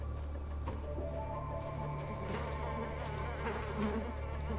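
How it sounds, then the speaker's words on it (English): Flies buzz continuously in the video game ATOM RPG, a low persistent droning hum with faint wing whines rising and fading, quiet and close, with no talking. "Flies buzzing around."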